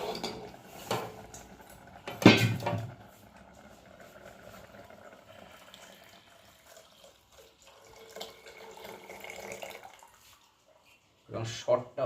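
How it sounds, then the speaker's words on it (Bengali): Milk is poured into a pot of cooking rice in a brief splashing gush, followed later by a second short pour, with quiet kitchen sounds in between. "দুধটা এবার আমি ঢেলে দেব।"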